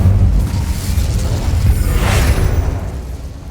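The Incendio fire spell in Hogwarts Legacy is cast as a dense, rumbling rush of noise that swells briefly near the end, steady and fairly loud, with no voices.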